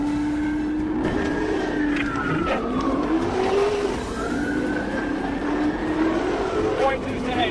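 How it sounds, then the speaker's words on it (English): A black Chrysler 300 with yellow racing stripes speeds away from police through city streets in a high-speed pursuit, its loud engine and tyre noise continuous and near, with rising and falling tones like a siren throughout. "the driver refused to pull over, accelerated away, and triggered a dangerous high-speed pursuit through city streets."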